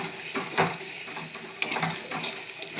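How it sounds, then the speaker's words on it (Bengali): Goat meat being sautéed (kosha) in a pan, with soft sizzling under irregular scraping and clanking of a spoon stirring it, close and moderately loud. "মাংস কষানো হচ্ছে"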